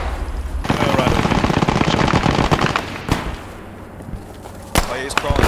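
In the video game Squad 44, loud, close gunfire crackles in a dense rapid burst, then eases into a few sharp, isolated shots. Voices are faintly present underneath.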